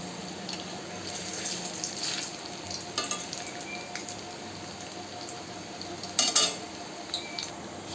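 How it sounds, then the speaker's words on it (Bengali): Semolina and egg snacks frying in hot oil give a steady, dense sizzle throughout, with occasional utensil scrapes and a brief louder spatter near the end; no talking. "এই তেলের মধ্যে দিয়ে আমি এগুলোকে ভেজে নেব। একইভাবে প্রত্যেকগুলো আমি ভেজে নেব।"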